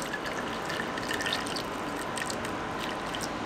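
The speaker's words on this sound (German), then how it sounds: "Gießen das mit heißem Wasser auf." Hot water is poured into a bowl of tomato and pepper paste, making a continuous, fairly loud splashing rush with no talk over it.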